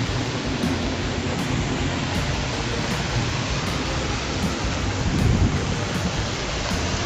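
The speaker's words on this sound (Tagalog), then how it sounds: "Bumuhos na ang malakas na ulan." Heavy rain pours in a dense, steady roar with gusty wind rumbling beneath it, loud and close, with no voices.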